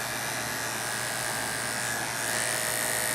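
Electric pet clippers trim the hair on a pet's face with a steady, fairly quiet motorized buzz that runs without a break. No voices are heard.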